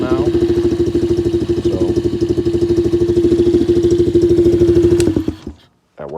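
A Coolster 125cc pit bike engine with a freshly tuned carburetor runs loud and steady at a high, buzzy idle for about five seconds, then cuts off abruptly, with a brief spoken word near the end.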